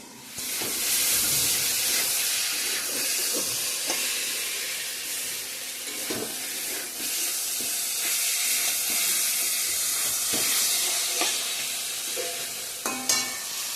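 Potato and eggplant curry frying in a covered pan, a steady close sizzle with soft stirring scrapes and occasional clinks, loud throughout with no talking.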